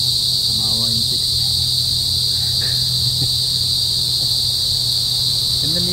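Insects chirp in a forest park in Manila as a loud, constant, high-pitched drone that fills the whole stretch, while a few faint, brief voice sounds come through underneath.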